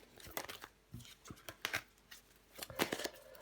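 Tarot cards are handled and laid out on a table, with quick papery slaps, slides and rustles in an irregular close sequence.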